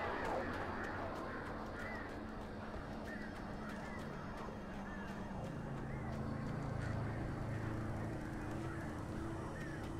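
Birds caw repeatedly in the video game Alan Wake Remastered, faint calls scattered over a dense, steady wash of outdoor ambience and low rumble, with no clear foreground event.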